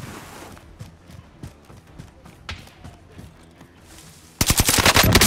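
Automatic gunfire in a Call of Duty: Modern Warfare firefight, scattered shots at first, then a dense loud burst of rapid rounds erupting near the end, with voices calling out over the action.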